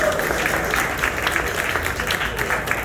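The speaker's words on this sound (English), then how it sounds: "Let's give a round of applause for the 500 Club." An audience claps steadily throughout, a dense and even patter of applause at moderate volume.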